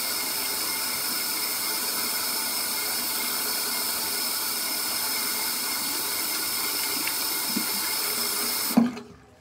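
Tap water runs steadily from a faucet into a sink, a continuous close hiss that holds for several seconds before cutting off abruptly near the end.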